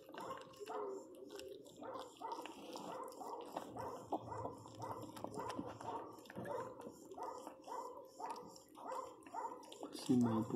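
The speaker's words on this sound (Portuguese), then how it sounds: "Filhotinha tá chorando." A newborn pinscher puppy cries and whimpers in repeated thin yips, close and fairly loud, while someone talks throughout.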